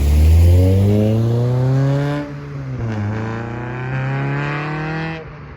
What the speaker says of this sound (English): I love this exhaust.